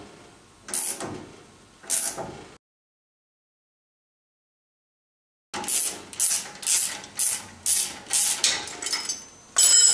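A rusted wheel hub is worked off the spindle of a Geo Tracker with a jack. The close metallic ratcheting comes first as two strokes, then falls silent, then returns as a quick run of repeated clicks.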